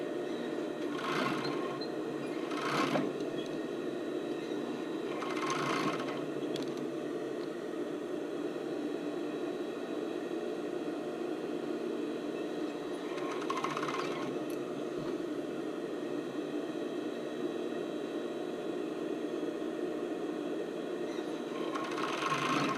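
A sewing machine stitches the strap of a sports bra, its steady whirring hum running continuously throughout, with a few brief louder bursts of mechanical clatter.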